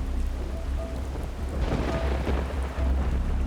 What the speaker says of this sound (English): the cruise ship hits stormy weather